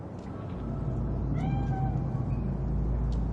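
A single cat meows once in Night City in Cyberpunk 2077, a drawn-out, rising-and-falling cry heard faintly over a low, steady rumble of city ambience.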